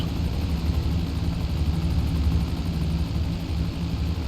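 Aircraft flying in GTA 5 Online gives a continuous, loud droning engine hum with a low rhythmic thrum that holds steady throughout.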